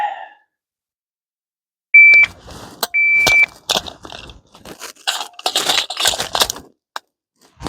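A shot timer's par beep sounds twice, about a second apart, during a handgun speed reload drill. Clacks and clicks of gun handling follow, with no talking.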